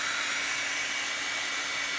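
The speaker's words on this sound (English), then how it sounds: "we're gonna have to turn the heat gun on for a minute" A heat gun runs steadily while drying decoupage on a junk journal, giving a constant, loud, airy blowing hiss with no change in pitch or level and no voices.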